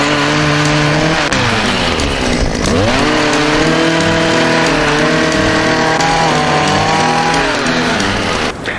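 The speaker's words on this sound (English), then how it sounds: "It's the STIHL combi system motor with an extension pole and the pole trimmer on the end of it" A STIHL combi system motor powers a pole pruner on an extension pole while trimming trees, running loud and close with a continuous two-stroke drone that dips and rises in pitch as it cuts.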